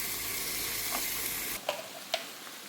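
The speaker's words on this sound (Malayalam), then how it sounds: "നമുക്കിനി ഈ കട്ട് ചെയ്ത് വെച്ചിരിക്കുന്ന കണവയും കൂടി ഇട്ട് കൊടുക്കാം കേട്ടോ" Cut squid hits a hot pan for stuffed squid, a dense steady sizzle that cuts off abruptly partway through, followed by a few sharp clicks and scrapes in near silence.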